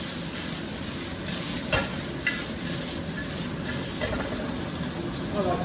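Bok choy and asparagus stir-fry in a hot pan, giving a steady, loud sizzle with scattered scraping and tossing clatters throughout and no voices.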